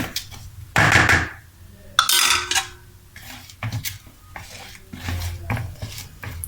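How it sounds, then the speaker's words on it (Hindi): Spices such as dry coriander stirred into fish curry in a pot, heard as irregular close scraping and clattering bursts of a utensil against metal with brief pauses between strokes, no voices. "चलें जी, अब हम इसको मिक्स करेंगे।"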